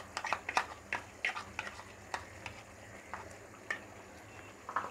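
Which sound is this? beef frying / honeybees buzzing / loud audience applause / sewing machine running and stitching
beef frying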